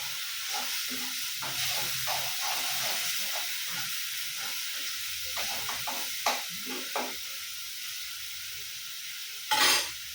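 Water splashed into a pan of frying curry gives off a steady, close hiss of sizzling steam, broken by clattering stirring strokes and a sharper spatter burst near the end.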